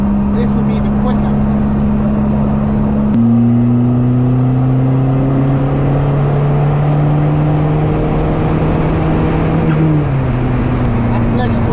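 A diesel-engined Toyota MR2 accelerating hard through gears, a loud, rising whine that drops sharply at each shift, with a brief burst of turbo chatter.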